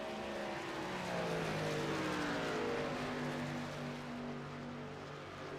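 A racing truck engine in iRacing drones steadily at high RPM, a continuous close buzzing whine with slight pitch shifts as it holds speed around the oval.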